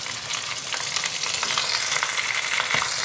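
Chicken pieces sizzle steadily with garlic paste in a hot pan, a bright, continuous crackling hiss with occasional stirring scrapes, close and fairly quiet.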